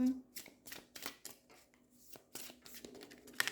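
Playing cards handled and dealt at a table in a French card game, quick papery riffles and flicks in a steady run of short bursts, close and fairly quiet, with a faint voice in the background.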